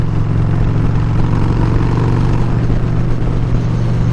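A loud 2004 Harley-Davidson Dyna FXDI Super Glide rumbles on the move, a deep steady engine drone heard close up and alone.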